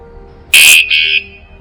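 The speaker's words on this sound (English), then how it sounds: "So now the alarm is active. Let us just see how loud it is." A bike anti-theft alarm blares a loud, piercing electronic warning tone close by, one shrill burst followed by a slightly lower second burst, then cutting off.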